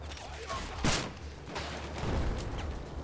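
Battlefield 4 gunfire during play on the dam map, with a sharp burst of shots near one second and a rattling volley later, all over a steady low rumble of combat.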